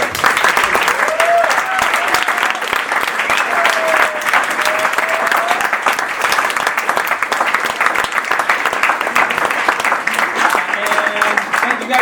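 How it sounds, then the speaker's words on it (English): Steady applause from a theater audience at an improv show honoring student performers, dense crisp clapping sustained for the full length with a few faint voices and whoops mixed in. "I want to say another round of applause to them"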